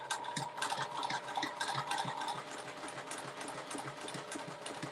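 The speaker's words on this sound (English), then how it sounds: "my sewing machine has speed dials, and I've never taken it off the slowest setting" A sewing machine runs at a slow, steady pace, its needle giving a rapid, even mechanical chatter close by.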